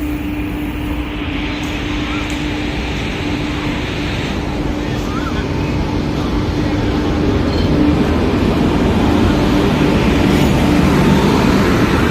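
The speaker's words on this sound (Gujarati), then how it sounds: "બોટાદ જંકશનમાં એન્ટર થતી 59228 ભાવનગરથી ચાલીને સુરેન્દ્રનગર જવાવાળી ટ્રેન" The 59228 Bhavnagar–Surendranagar passenger train rolls into Botad Junction: a loud, continuous low rumble with a faint steady hum, growing slightly heavier as it arrives.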